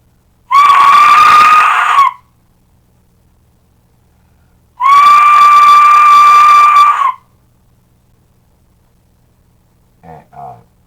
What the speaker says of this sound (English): The war chiefs would carry these war whistles.